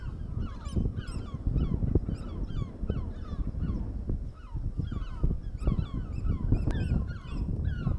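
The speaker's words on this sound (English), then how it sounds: "Lots of bird noises out here at the moment." Seabirds call repeatedly on the rocky coast of St Agnes in the Isles of Scilly, a chorus of honking, goose-like cries over steady wind noise buffeting the microphone.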